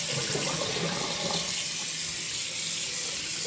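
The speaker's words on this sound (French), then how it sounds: "Là, on va rincer ça." Something being rinsed under a running tap at home, with a continuous hiss of water splashing into a sink, steady and close, with no voices.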